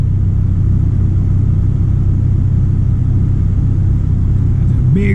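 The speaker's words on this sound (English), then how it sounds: "That's a big rig. Peterbilt." A Peterbilt big rig truck rumbles past close by with a heavy, continuous low engine roar that dominates the scene.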